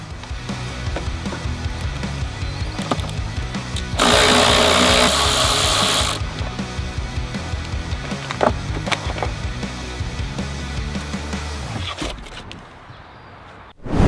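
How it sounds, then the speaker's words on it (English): A ratchet socket wrench with 10mm and 8mm sockets loosening car battery terminals and a clamp, giving steady close clicking and rattling with a sudden loud hissy burst partway through and a few sharp knocks. "by loosening the battery terminals with a 10mm socket if you can find it, and an 8mm socket for the clamp"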